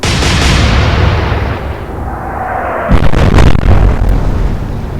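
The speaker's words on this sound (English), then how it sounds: "It's a good salvo." A warship's gun salvo in the naval combat game Atlantic Fleet: after a steady roar of engine and sea noise, a cluster of loud, heavy booms crashes out close and forceful, rolling off over a second or two.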